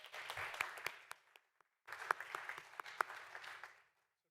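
Audience clapping at a school board meeting, steady moderate applause from a room of people that breaks off briefly, then resumes at a similar level before tapering away.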